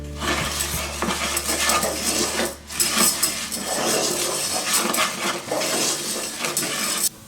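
Garlic and spices sizzle in oil in a pan for a vegan dish, with steady frying hiss, metal utensil scrapes and light clinks against the pan throughout, a brief pause midway, no talking.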